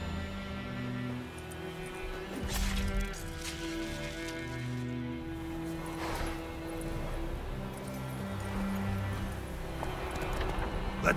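Horses gallop in The Witcher 3, hooves drumming in a quick, muffled rhythm beneath droning game music and occasional voices.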